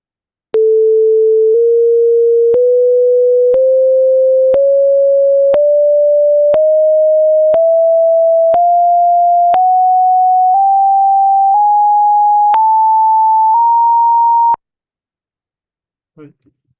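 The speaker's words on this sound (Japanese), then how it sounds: "12音をすべてを一緒に連結して、で、オーディオというメソッドを使って、どの音ができたかを再生してみましょう" A synthesized sequence of twelve pure sine tones steps upward in pitch, each held about a second with a faint click at every change, steady and loud, followed by brief quiet.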